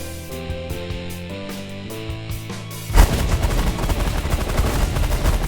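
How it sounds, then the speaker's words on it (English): Beam Fan weapon firing in the space strategy game The Last Federation, heard as a sudden loud burst of rapid, dense explosive blasts that cuts in over a melodic music track and keeps going. "Alright, there's Beam Fan going off."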